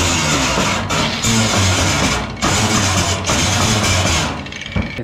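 A power grinder works down spots on a GMC Sonoma truck bed, a loud, dense mechanical whir that surges and dips in several bursts before easing off near the end.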